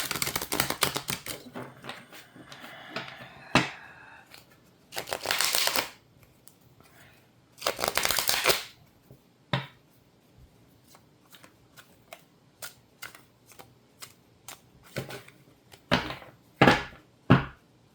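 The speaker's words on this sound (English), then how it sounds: "Shuffling is the longest parts of my reads." Playing cards shuffled repeatedly for a reading, with bursts of riffling and bridging separated by quieter handling, taps and card snaps, close and fairly loud, no talking.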